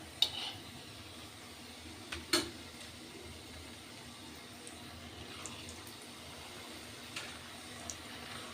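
Food fries in hot oil in a home kitchen, a soft steady sizzle with a few sharp clinks of a utensil against the pan near the start, no talking.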